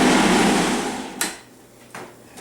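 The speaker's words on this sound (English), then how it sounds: "just give that a little tiny blend up again" Blender mixing protein pancake batter, a loud whirring motor for about a second that winds down, followed by a couple of light knocks as it stops.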